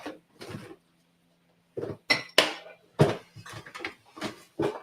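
A knife cuts through cooked lamb on a plate, giving short scraping and clinking bursts with quiet pauses between strokes, close up and without talk.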